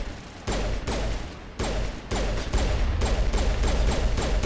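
Gunfire from the video game Mass Effect, loud sustained bursts of rapid shots that are cut by brief pauses and then run into a continuous barrage.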